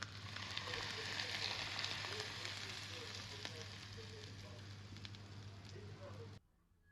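Kalonji and fenugreek seeds crackle and sizzle in hot oil for a tempering, a continuous faint, close fizzing that cuts off abruptly at the end.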